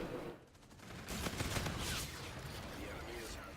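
Rapid automatic firing of the Oni Unshakeable pistol in a shooter video game, a dense crackling stream of shots that swells in the middle, moderately quiet with someone talking over it.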